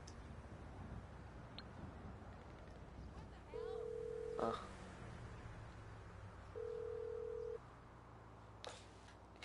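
In-game phone ringback tone for a call to Mors Mutual insurance, two long steady electronic tones separated by a pause, faint under quiet background game sound.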